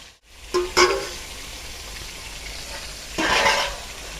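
Large pieces of meat fry in a pan, a steady low hiss of sizzling broken by a couple of short stirring knocks early on and a louder rush of frying near the end.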